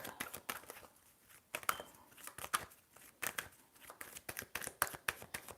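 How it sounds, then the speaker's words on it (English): Tarot cards are shuffled by hand up close, a quiet run of crisp riffles, slaps and papery flicks in uneven bursts. "Now let's shuffle."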